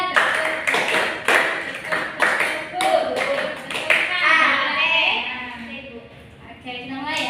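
Students in a small classroom group clap along to a counted clap chant, a series of sharp hand claps in short bursts mixed with a teacher's voice and children talking throughout.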